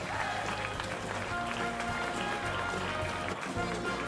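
Audience applause welcoming a speaker onto a stage at an evening talk, a steady dense patter of many hands clapping, fairly faint and distant.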